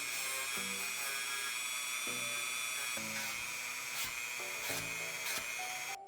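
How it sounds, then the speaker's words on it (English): A Dremel rotary tool spins steadily at high speed while rounding off small buttons on a DIY wearable Baby Yoda pod, a continuous whine with brief pitch dips and bumps as it meets the material. "now I'm gonna take my Dremel and for the little buttons on the front"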